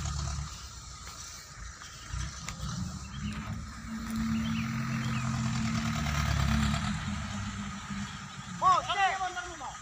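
A heavy excavator engine idles and rumbles steadily in the background while people talk nearby at a school foundation site, with a brief squealing sound near the end.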